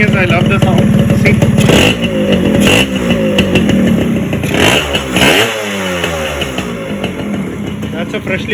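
A freshly rebuilt Yamaha RXZ two-stroke motorcycle engine revs hard on its first run, the loud, close exhaust rising and falling through several sharp throttle blips with rattling clatter, while a voice talks over it.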